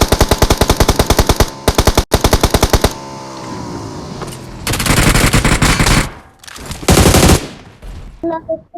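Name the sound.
gunfire spraying in PUBG Mobile video game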